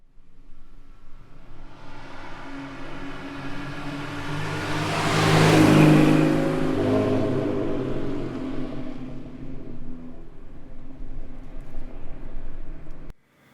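A single car approaches and passes close by in true stereo, engine rising to a loud peak around the middle and then fading away, with no talk over it.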